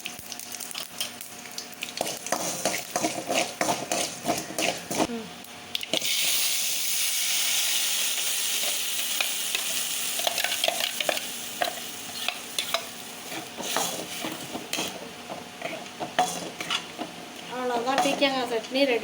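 Mustard seeds and urad dal fry in hot oil for a ridge gourd chutney tempering, a loud crackling sizzle with sharp popping bursts and scraping stirs, rising to a strong hiss midway.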